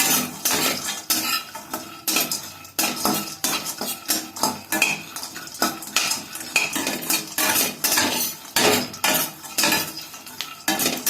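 Cashews and pistachios are stirred in a pan, making loud, close, rhythmic metal scrapes and clatters of spoon on pan that repeat in quick bursts, with no talking.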